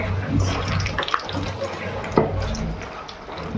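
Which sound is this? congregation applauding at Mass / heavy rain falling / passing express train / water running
water running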